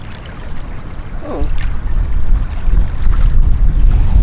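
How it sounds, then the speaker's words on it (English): Strong gusts of wind buffet the microphone, a loud rumbling roar that swells and surges throughout. "Oh, sorry about the wind."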